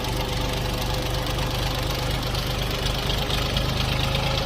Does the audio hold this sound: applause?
no